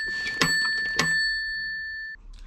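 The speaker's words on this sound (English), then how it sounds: "the bell still works" Two sharp strikes of an old bell bought at a car boot sale ring out, each leaving a bright, sustained metallic tone that decays slowly over about a second, close and clear, with no talk.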